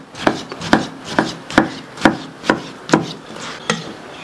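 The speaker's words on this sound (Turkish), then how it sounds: "Bunları da aynı şekilde yemeklik kuşbaşı doğrayacağız." Knife chopping tomatoes into small cubes on a board, about ten sharp, evenly spaced chops in a steady rhythm, close and clear with no talking.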